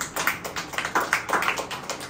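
A church congregation clapping their hands in praise, a dense run of rhythmic claps repeating steadily across the whole stretch, fairly close and loud, with no voices over it.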